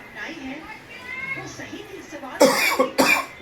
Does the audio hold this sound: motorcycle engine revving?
no